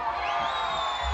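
Carnival crowd in Tietê, São Paulo, letting out a dense, continuous shout and cheer, loud and sustained through the whole moment with no clear gaps.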